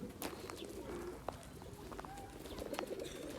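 Bursa roller pigeons coo softly at a distance in a loft, with a few low calls and faint chirps over a quiet background hum.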